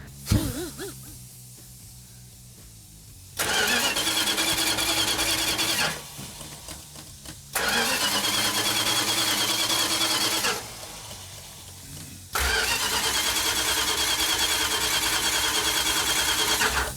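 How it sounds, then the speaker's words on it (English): A cold Dodge Super Bee engine in a GTX cranks with no fuel and never fires, with three bursts of steady, even starter whirring separated by pauses. "Mark, it's not firing. Well, there's no fuel in it. I was just gonna crank it"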